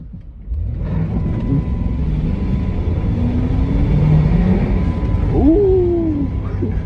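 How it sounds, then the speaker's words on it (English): A 2009 Jeep Commander with a 5.7 Hemi engine drives through a snowstorm, its steady low engine rumble heard from inside with the window partly down, rising briefly in pitch toward the end. "They roll the window down a little bit so y'all can hear this slim Hemi."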